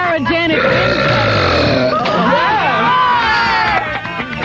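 A man belches loudly on a 1980s radio show, a long drawn-out burp over a murmur of studio voices and laughter.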